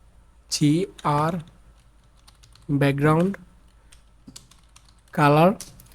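Soft, scattered clicks of typing on a computer keyboard sit faintly beneath several louder voiced bursts, in an HTML coding lesson.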